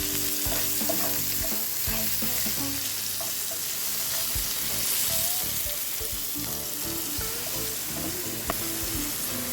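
Mushrooms sauté in butter and garlic with a loud, steady sizzle and occasional stirring scrapes, no voices.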